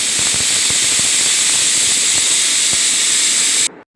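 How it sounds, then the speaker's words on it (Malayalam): A pressure cooker cooking spinach and lentils lets out a loud, continuous hissing whistle of escaping steam that holds steady and then stops sharply. "അപ്പോൾ നമ്മുടെ കുക്കർ റെഡിയായി, വിസിൽ വരാൻ തുടങ്ങിയിട്ടുണ്ട്."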